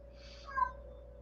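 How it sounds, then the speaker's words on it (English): A house cat meows once indoors, a single short, soft call rising over a quiet room hum. "Do you hear my kitty cat? That meow was, let me outside."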